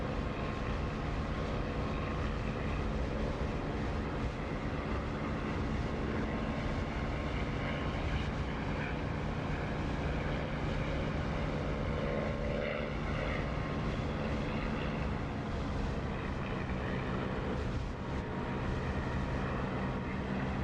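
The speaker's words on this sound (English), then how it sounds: "That was a pretty bad takeoff" A simulated aircraft engine roars steadily during and after takeoff in a flight-sim game, a loud, continuous propeller drone with no talk over it.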